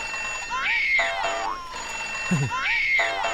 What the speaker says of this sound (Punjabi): ਉਹ ਕਿਹਦਾ ਫੋਨ ਆ ਗਿਆ?